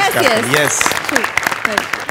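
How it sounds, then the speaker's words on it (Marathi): A studio audience at a Marathi comedy show applauds the captain with steady, close clapping under a voice talking over it. "सरांसाठी एकदा जोरदार टाळ्या"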